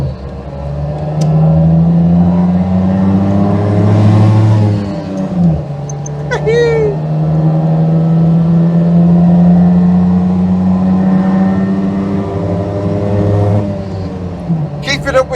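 Daihatsu Fellow Max engine heard from inside the car while driving, a steady droning hum that rises as it accelerates through the gears, with a brief dip at a gear change and someone talking over it.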